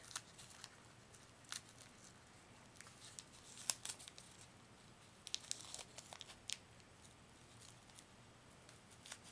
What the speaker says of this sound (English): I'm going to cut some more tape.